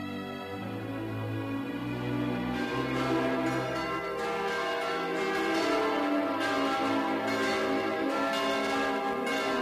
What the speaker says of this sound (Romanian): adăpostește 5 clopote turnate la Viena în vremea voievodului Constantin Brâncoveanu